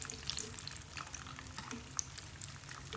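Spring rolls (lumpia) sizzle and crackle quietly in hot oil, a soft steady fizz with scattered pops.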